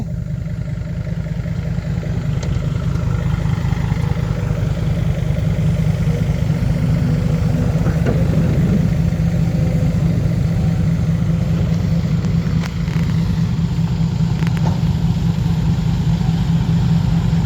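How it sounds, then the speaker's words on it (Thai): A farm tractor engine runs steadily close by throughout, a loud continuous low idle-like rumble with a few faint knocks and clatters over it. "เอารถไถไปนู่นเล"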